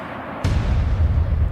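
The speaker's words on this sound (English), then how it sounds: "Can we get some gunshots for John Boyega?" Gunshot sound effects played as a comedic drop during a podcast segment: a sudden loud booming burst that lands abruptly after quiet and rolls on as a heavy, rumbling low-end barrage to the end.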